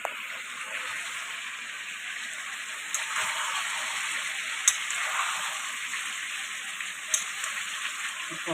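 Chicken sautéing in a pan, a steady close sizzle and fry with occasional small pops and stirring clicks, no voices.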